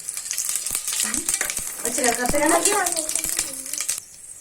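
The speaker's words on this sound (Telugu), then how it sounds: "ఒక 2 నిమిషాలు దాన్ని వేయించుకోండి ఆయిల్లో" Cloves, bay leaf, kasuri methi and shahi jeera fry in hot oil for mushroom biryani, giving a constant close sizzle while a person talks over it.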